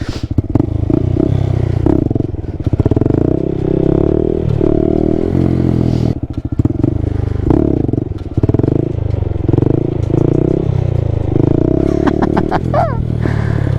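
A Honda Grom stunt motorcycle doing a wheelie: a loud, close single-cylinder engine holding a steady throttle with wavering revs and slight clatter, rising briefly near the end.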